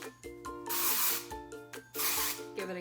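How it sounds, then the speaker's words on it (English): Living Proof spray hisses onto hair in two long bursts with shorter puffs around them, loud and close over a faint steady hum, with no speech. "kind of spray it up here"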